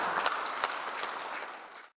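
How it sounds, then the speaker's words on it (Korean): An audience at a university research society meeting breaks into steady applause to welcome a speaker, a dense even round of clapping that fades out after two seconds. "큰 박수로 환영해주시면 감사합니다."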